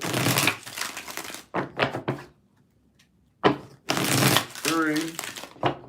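Tarot cards are shuffled by hand in a series of crisp, papery riffle bursts close up, with a quiet gap in the middle. A voice speaks briefly between the later shuffles.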